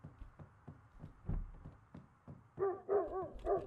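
A dog barks a few times in the video game Project Zomboid, faint and distant at first over soft thumps, then several nearer, louder barks toward the end.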